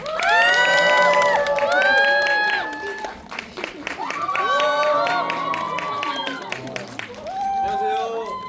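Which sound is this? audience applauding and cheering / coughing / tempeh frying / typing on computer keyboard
audience applauding and cheering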